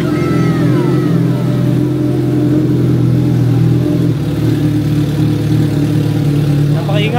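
Kawasaki ZX-14R and Suzuki Hayabusa motorcycle engines with a straight-pipe sound idle and rev loudly up close, a deep steady rumble with shifting revs, while people talk over it.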